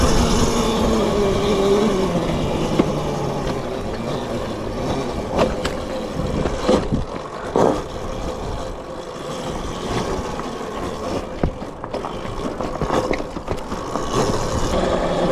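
A Qronge X1 Spark mini electric dirt bike ridden off-road and pushed at full throttle up a hill gives a steady, close rush of motor, wind and tire noise for the whole stretch, with scattered knocks and rattles over rough ground and no talking.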